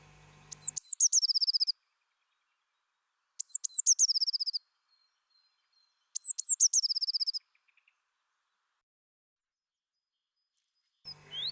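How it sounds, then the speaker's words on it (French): A blue tit sings three bursts of high, thin notes ending in a rapid trill, separated by silent pauses, clear and close. "Écoutez, la mésange bleue,"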